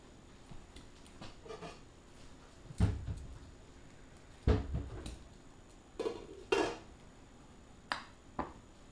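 A metal lid is set onto a cooking pot in a kitchen, giving a few sharp clanks and clatters spaced irregularly over several seconds, close and fairly loud against quiet background.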